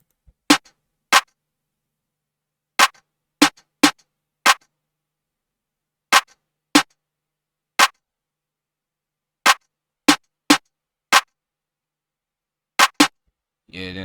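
Clap sample in an FL Studio beat for a track, struck sixteen times in short sharp bursts, mostly in pairs with gaps between, loud and dry with no other sound until a brief buzz at the end.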